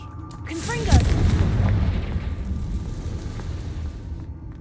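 Confringo fire spell blast in the Hogwarts Legacy video game, a single loud booming explosion with a crackling burst at the start, then a long rumbling decay.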